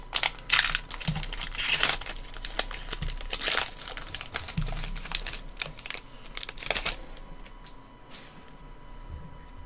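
Space Jam: A New Legacy hobby box trading card packs being torn open, with repeated close crinkling and ripping of foil wrappers in bursts, quieter toward the end, no talking.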